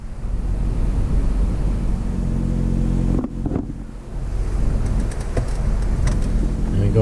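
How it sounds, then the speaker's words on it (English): A Jeep Compass engine cranks and catches, then idles with a steady rumble up close, a brief dip in the noise marking the start before the engine settles into running. "start the car up"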